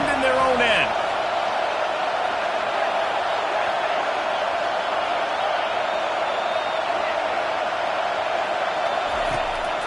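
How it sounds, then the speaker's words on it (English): A steady, dense roar from an American football stadium crowd during a third-down play, with a voice speaking over the sustained wash of noise. "The roar of the crowd trying to fuel this defense to keep them pinned in their own end."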